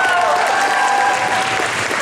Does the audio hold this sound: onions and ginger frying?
no